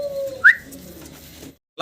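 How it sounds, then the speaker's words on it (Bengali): Black magpie pouter pigeons coo close by, giving a low throaty call followed by a brief rising note, then a short pause and a fresh burst at the end. "আরও একটা ম্যাকপাই পটারের জোড়া দেখাচ্ছি আপনাদেরকে, ব্ল্যাক কালারের ভিতরে।"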